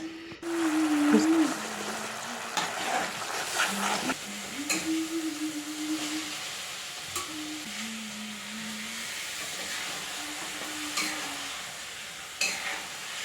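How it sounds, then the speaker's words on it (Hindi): Masala with turmeric and kitchen king spice is stirred and fried in a pan: a soft, steady sizzle with scraping stir sounds, faint and close, alongside a low tonal hum and no talking. "और फिर इस मसाले को सबको अच्छे से भूनेंगे, बस ऊपर से हल्दी और किचन किंग मसाला भी मैंने डाल दिया था इसमें।"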